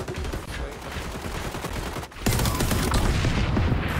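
A grenade blast in the XDefiant shooter game lands amid constant gunfire, with a sudden loud boom near the middle and dense shooting continuing after it.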